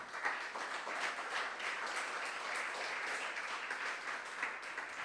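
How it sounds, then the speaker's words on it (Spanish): A church congregation claps as an offering of applause to the Lord during a Bible study service, a continuous, fairly distant wash of many hands at moderate volume without a break. "era una ofrenda de aplauso al Señor"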